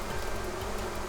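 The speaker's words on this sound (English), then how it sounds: "that's a lot of bees" Dense, continuous buzzing of many honeybees pouring out of a backyard garden hive box, a steady close hum with no pauses.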